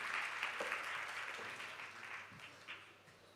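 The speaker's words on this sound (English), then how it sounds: "Please, clap her onto stage" A conference audience claps as a speaker comes on stage, a faint steady patter of applause heard from a distance, with no voices over it.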